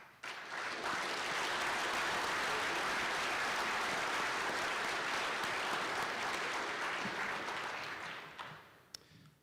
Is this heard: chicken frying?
no